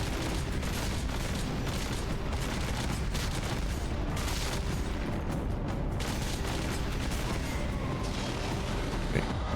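Dense, loud gunfire and booming lascannon blasts fill the Warhammer 40,000: Space Marine battle on PS3, continuous heavy combat noise with no pauses.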